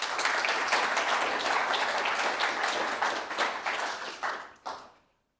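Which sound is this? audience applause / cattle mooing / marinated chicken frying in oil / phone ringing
audience applause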